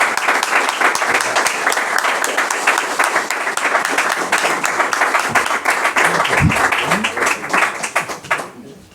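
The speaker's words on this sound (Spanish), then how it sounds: "tú el merecido aplauso por esta gran obra" Sustained audience applause at a book presentation, dense steady clapping from a crowd filling the room for several seconds, with a few murmured voices underneath before it quickly dies away at the end.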